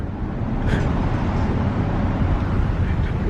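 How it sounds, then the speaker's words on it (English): A Hyundai Genesis Coupe engine held at around 4000 rpm, a loud, steady broadband roar with no clear rise or fall, recorded close up, with faint voices in the background. "Now rev it around 4 grand, and the car will be like a machine gun."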